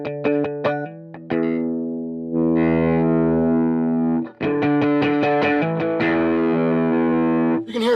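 Electric guitar through a Mooer Red Truck drive pedal with the gain turned low, giving light breakup: a few quick plucked notes, then sustained ringing chords, then a run of strummed chords, close and loud with no talking.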